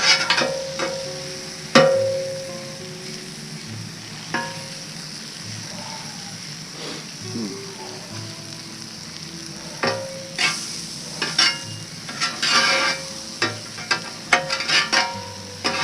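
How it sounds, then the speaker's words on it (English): Mushrooms sizzle in plenty of butter on a Blackstone griddle, a steady close frying hiss broken by occasional scraping and clinking of a spatula against the flat top. "Alright, so mushrooms are cooking nicely over here."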